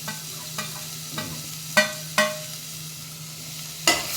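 Carrots stirred in a pot of sweet corn soup with a spoon, giving a soft steady sizzle broken by several sharp scraping knocks against the pot, spaced irregularly, close and moderate.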